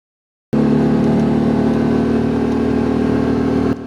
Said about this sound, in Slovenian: Motor je rohnel, merilnik pa je kazal hitrost le 30 km/h.